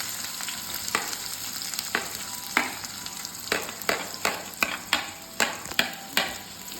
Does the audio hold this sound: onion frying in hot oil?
yes